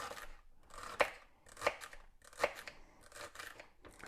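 A knife chopping vegetables on a cutting board, with quiet, close, uneven strokes and a few sharper knocks about every second.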